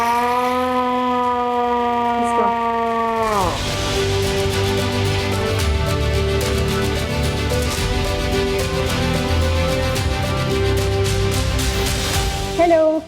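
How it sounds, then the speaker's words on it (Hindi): An old hand-cranked emergency siren aboard a safari tourist train rises in a loud wailing tone, then settles into a sustained, wavering howl mixed with rattling mechanical clatter for several seconds before stopping sharply. "उस वक्त ये मैनुअल सायरन को यूज़ किया जाता था in case of an emergency"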